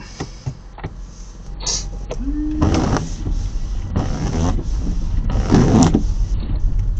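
A faulty car windshield wiper makes a bad noise, with repeated scraping and squeaking sweeps layered over the steady hum of the vehicle, loud and close with no talking.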